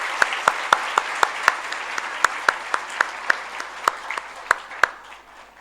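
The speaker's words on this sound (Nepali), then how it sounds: "हामी सबैजना ताली बजाएर हामी एकाले अर्कालाई अनि हाम्रा वक्ताहरूलाई हामी स्वागत गर्नेछौँ।" A church congregation applauds to welcome speakers, a broad steady wash of clapping with sharp individual claps standing out near the microphone, fading slightly toward the end.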